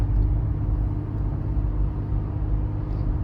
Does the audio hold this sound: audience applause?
no